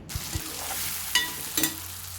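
Tomato curry sizzles steadily in a pan as potatoes go in and are stirred, with a few soft scraping knocks over the continuous frying hiss; no speech.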